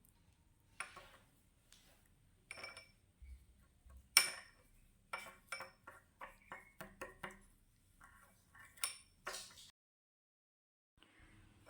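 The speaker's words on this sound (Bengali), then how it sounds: "ভালো করে এইভাবে চামচের মাধ্যমে এটাকে মিক্স করে নিতে হবে।" A spoon stirs toothpaste and salt in a bowl, giving a series of light, irregular clinks and scrapes spaced through the stretch, close and fairly quiet, with no voices.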